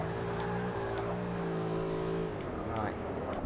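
A Mercedes-AMG GT S races in Forza Motorsport 6 Apex, its engine revving loud and close with climbing pitch before a brief drop as it keeps accelerating.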